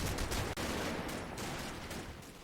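Anti-tank gun fire in the wartime strategy game Combat Mission: a dense, rumbling burst of battle noise with a sharp crack near the start, sustained and loud without any talk.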